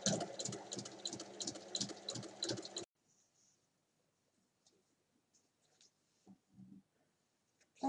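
A sewing machine stitches layers of a fabric pouch together in a rapid, rhythmic mechanical chatter for about three seconds, then stops, leaving faint handling clicks and rustles.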